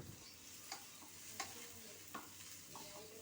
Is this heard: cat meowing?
no